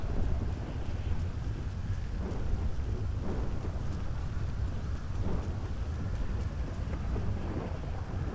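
Heavy, steady rain pours down with low rumbling thunder rolling underneath throughout, a dense continuous storm in GTA V with no talking.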